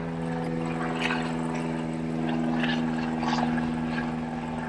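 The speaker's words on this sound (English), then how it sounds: "I apologize for the noise of the aircraft flying directly above me." Aircraft passing directly overhead beside a Midnight Sapphire BMW X6 M Competition, a steady loud droning hum with a strong low tone that holds throughout, close and unbroken.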